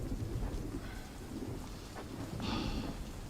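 Heavy rain pours steadily in a dense hiss while low thunder rumbles underneath, a continuous storm with no voices.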